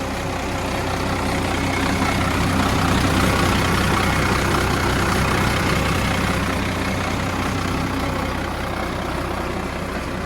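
A tractor engine ticking over at idle, a steady, dense diesel rumble with an even mechanical chatter, close and loud and unchanging throughout.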